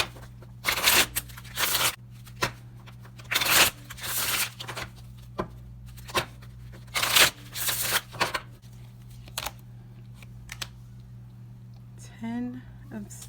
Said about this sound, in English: Let's shuffle you up and see what we're packing.